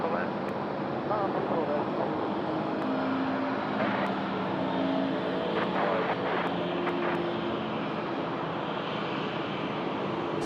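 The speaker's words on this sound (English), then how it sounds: "Here we go, FedEx 777 freighter finals now, 3-4 left." A FedEx Boeing 777 freighter lands on runway 34 left at Sydney Airport at night, its engines a steady broad roar that runs without pause beneath faint radio chatter.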